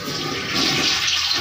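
A toilet that had kept running nonstop, now repaired, flushes with a loud, steady rush of water up close. It has no speech and holds strong from start to finish.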